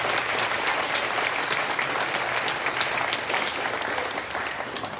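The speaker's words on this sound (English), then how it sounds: "Can we give Mrs. Harvey a clap?" Audience applause fills a school presentation day hall, steady dense clapping from many hands throughout, loud and continuous with no talking over it.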